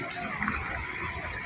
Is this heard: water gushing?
yes